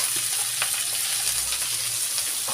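Lai greens hit potatoes already frying in hot oil over a medium flame, giving a steady close sizzle with a few soft crackles and brief stirring scrapes, no voices.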